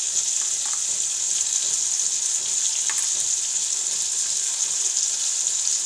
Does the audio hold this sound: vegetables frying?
yes